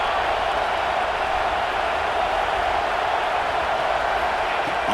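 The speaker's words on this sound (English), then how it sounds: "Listen to the crowd energy here in the early going" A packed football stadium during a Texas game sends up a dense, sustained roar of cheering, loud and unbroken from start to finish, with the crowd noise filling the whole scene.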